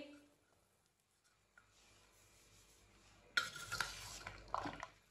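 Chana chaat ingredients being stirred and mixed together in a bowl, quiet at first, then a burst of louder scraping and clinking utensil sounds in the last couple of seconds.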